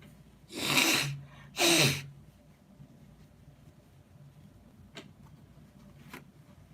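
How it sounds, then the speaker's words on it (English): Two forceful nasal blows in quick succession, close and loud, followed by quiet pauses with a couple of faint clicks. "Get the sniffles out the nose."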